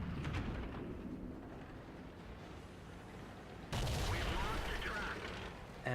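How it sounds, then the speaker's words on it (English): Enemy artillery fire in the World of Tanks video game, heard as a heavy rumbling blast with sustained booming and crackle over a steady engine-like bed, a louder burst arriving midway. "the enemy artillery fires a shot, takes out my tracks"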